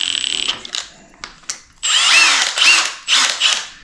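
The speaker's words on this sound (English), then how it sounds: "So my gun here is an impact" An impact wrench runs in short bursts during an Oldsmobile 400 engine build: a few brief whirring starts, then longer loud hammering, rattling runs close by, with no talk.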